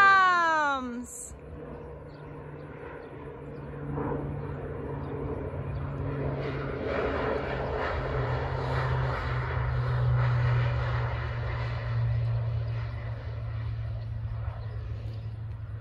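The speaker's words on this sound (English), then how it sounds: "I woke up to the sound of an airplane this morning and I knew the crop duster was near." A crop duster airplane passes over a cornfield, its engine a steady drone that rises and swells for several seconds and stays fairly distant, with a brief cat-like meow at the start.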